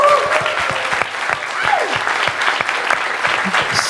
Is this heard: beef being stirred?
no